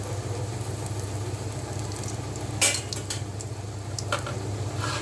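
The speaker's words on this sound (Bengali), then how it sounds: "যতক্ষণ না জিরেটা ভাজা হচ্ছে ততক্ষণ পর্যন্ত নাড়তে হবে।" Cumin and bay leaf fry in oil in a pan, producing a soft continuous sizzle with a couple of sharp utensil clinks against the pan, faint and close, no talking.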